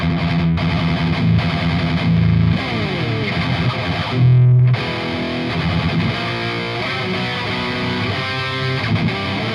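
Electric guitar played through an ENGL Artist Edition amp on the lead channel with gain maxed, heavily distorted chugging riffs and sustained notes, loud and close, cutting off abruptly between phrases.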